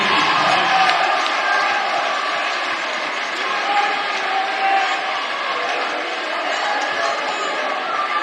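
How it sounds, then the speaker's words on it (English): A loud crowd cheers and roars in a high school basketball gym at Cherokee Washington High School, a dense steady wash of voices filling the room throughout, with a commentator talking over it. "Nice to hear the nice loud crowd here at Cherokee Washington High School gym."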